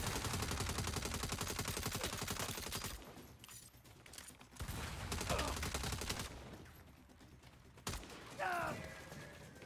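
Rapid automatic gunfire from the video game Saints Row rattles in dense, overlapping bursts for about three seconds, then returns in scattered volleys amid mechanical clatter, with some talk over it.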